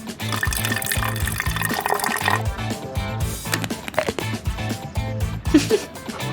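Water poured into a portable dog paw cleaner, a steady liquid splash and trickle running over background music, fairly close and continuous.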